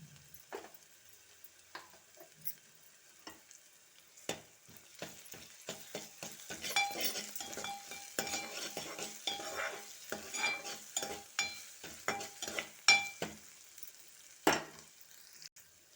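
Ginger garlic paste fries in a pan with a soft sizzle, cut by a run of quick scraping strokes from stirring that grow denser and louder midway, then thin out.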